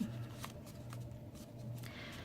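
Paper being folded into the wings of an origami crane, giving soft, close crinkles and rustles that are quiet and continuous over a low background hum.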